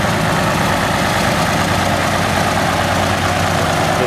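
An International Harvester 656 utility tractor engine idles at an outdoor tractor show, a loud, steady low-pitched rumble with even vibration throughout and no voices.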